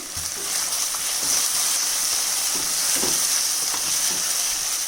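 Chopped onions fry with salt in a pan on high flame, giving a steady, loud, close sizzle with faint crackles throughout.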